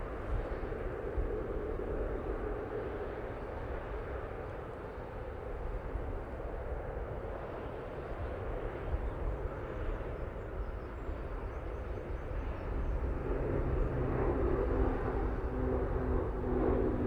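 A Ryanair jet rolls for takeoff at Manchester Airport, its steady engine roar heard from a distance as a broad, continuous rumble that swells slightly toward the end.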